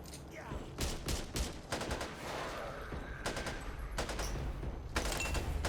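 Gunfire in the video game Back 4 Blood, repeated bursts of automatic fire and shots at close range, mixed with game noise and a voice speaking at times.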